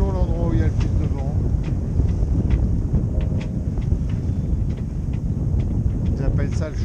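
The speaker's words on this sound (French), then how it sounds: "C'est toujours l'endroit où il y a le plus de vent." Strong, steady wind roars and buffets the microphone while a sailboat moves along a sea cliff at about five knots, a constant low rumble with faint higher whistles, no talk.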